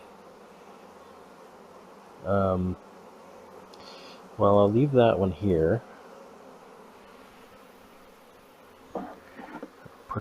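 Honey bees buzz around an open hive during a queen-grafting inspection, a steady low hum running under the whole stretch while someone speaks briefly over it.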